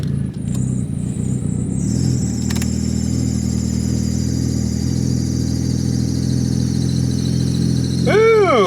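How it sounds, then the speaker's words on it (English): A Honda Civic with an exhaust leak runs and pulls away, a loud, close engine drone with rising revs and a rough exhaust note, and a brief whine near the end. "We got an exhaust leak, that's for sure."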